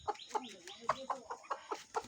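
Backyard chickens, including silkies and broilers, clucking in a quick run of short, soft calls, about ten clucks in two seconds, fairly close but quiet.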